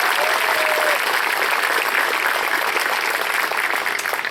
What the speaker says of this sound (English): Let's give all of our students who were just recognized one more round of applause